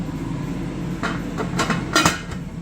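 A lid set onto a pot of cooking curry, with a few close metallic clanks and taps over a steady low background, the sharpest knock near the end.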